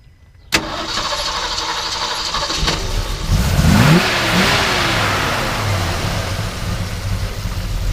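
A 1968 AMC AMX with a 390 V8 cranks and catches abruptly, settles into a smooth steady idle, then gets a couple of rising revs before easing back to a loud, even idle, close and alone.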